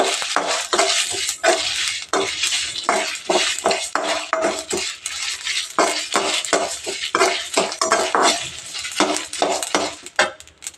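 Dense, continuous scraping and clinking of a spatula stirring urad dal and dried red chillies roasting in a pan for fenugreek leaf chutney, busy and close throughout with no talk.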